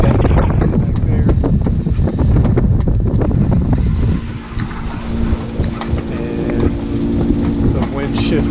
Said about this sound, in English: And the wind shifted to my nose.